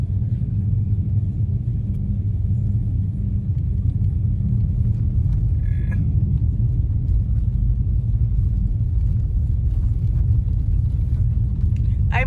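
Car driving through a blizzard on a bumpy snowy road between South Lake Tahoe and Reno, heard from inside the cabin as a loud, constant low rumble of engine and road with faint occasional knocks and clicks.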